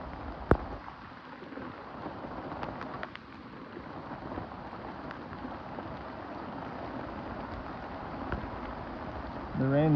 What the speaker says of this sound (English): The rain's picking back up here